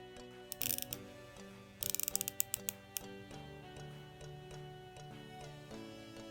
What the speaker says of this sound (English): It's got a 12-hour ceramic bezel, 120 click.